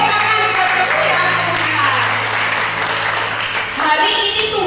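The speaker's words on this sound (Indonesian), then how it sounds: "Tepuk tangan buat Tuhan." A congregation claps at a church service, a dense, sustained applause that stays loud throughout over a low background hum.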